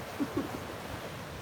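Atlantic Ocean surf on an active beach at sunrise, a low steady wash of waves with faint wind noise, distant and soft.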